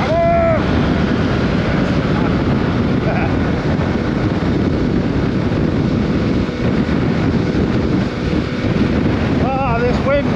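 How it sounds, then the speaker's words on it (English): Strong gusting wind from a storm blasts across the microphone during a motorbike ride, a constant loud roar and buffeting that swamps everything, with a voice briefly audible through it. "Ah, this wind! Apologies if you can't hear a word I'm saying. It's picking up now."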